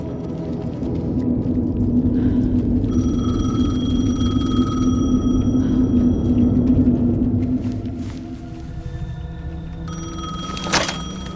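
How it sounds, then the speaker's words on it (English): A payphone rings in the video game Alan Wake 2, repeated bell-like rings sounding over a low droning ambient rumble, with no speech. "payphone was ringing."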